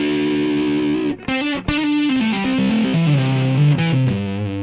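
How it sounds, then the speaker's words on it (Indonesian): Distorted electric guitar plays an arpeggio through an effects unit, with loud, sustained notes stepping through changing pitches and two brief sharp breaks near the start, no voices. "Atau digabung dengan distorsi."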